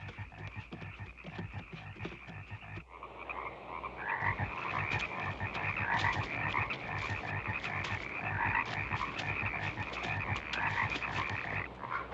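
Frogs croak near a dock in a dense, continuous chorus of rapid rattling calls that fills the whole stretch, steady and moderately loud, with no talk.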